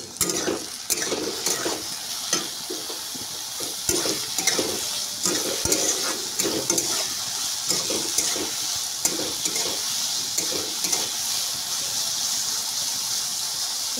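Food fries in a pan with turmeric and salt, a continuous sizzle broken by frequent scraping and stirring strokes at close range, with no talking over it.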